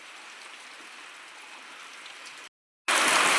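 Steady rain falls outdoors on a wet morning, a continuous even hiss, broken by a brief gap of near silence before a louder, closer burst of rain.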